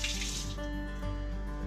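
A persimmon is rinsed under a running kitchen tap, with a steady close stream of water splashing into the sink throughout a short, continuous burst.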